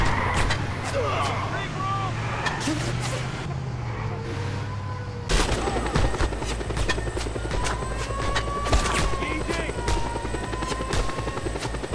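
In the video game Just Cause 2, a helicopter's rotor and engine drone loudly and continuously, with a brief shift partway through, while voices talk over the noise.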